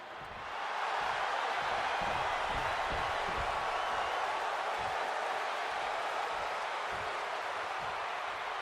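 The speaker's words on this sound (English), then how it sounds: "And this capacity crowd just exploded." Capacity arena crowd in the WWE 2K26 wrestling game surging into a loud, sustained roar of cheering that rises quickly and holds steady, with scattered thumps underneath.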